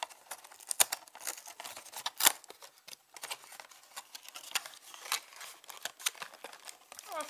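A Japanese candy package being opened, with sharp crinkling and tearing plastic in bursts of irregular rustles and snaps, close and fairly loud, with no talking.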